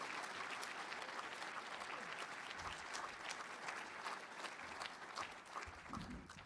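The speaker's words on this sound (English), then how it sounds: "Please give him a round of applause." A crowd at a football national championship ring ceremony applauds steadily, a dense wash of clapping with a few whoops that carries on at an even level.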